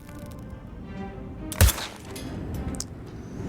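A sniper rifle fires at a box in Hitman III: one sharp, loud shot stands out midway against a quiet game ambience, with no talking.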